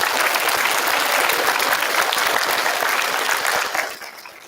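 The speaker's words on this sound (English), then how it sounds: "we're going to give them a round of applause as well" Audience at a seventh grade school awards day applauding honoured students, a dense burst of clapping that holds steady and then tapers off at the end.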